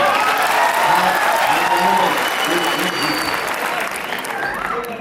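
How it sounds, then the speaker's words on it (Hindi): An audience at a Hindi poetry recital bursts into loud, sustained applause that thins slightly toward the end, with a voice speaking over the clapping. "तालियां कमजोर है"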